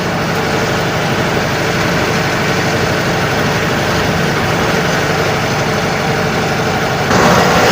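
A Leyland bus engine idles close by, a steady, loud low rumble that holds constant throughout and swells slightly louder near the end, with no talk over it.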